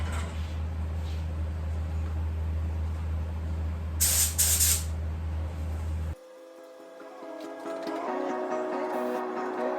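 A spray gun lays a second coat of epoxy primer onto a 1970 Chevelle body under restoration: a steady, close hiss with a low hum beneath, which stops abruptly, leaving a quieter background.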